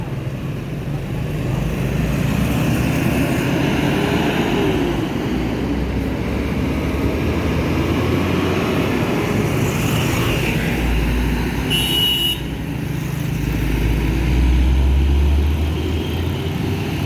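A new Jet Bus 5 coach passes close by, its engine a loud, steady roar that swells and carries on for the whole stretch, with no voices over it.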